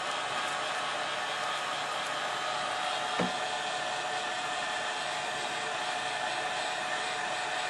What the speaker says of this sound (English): Notice I'm always moving the heat gun around.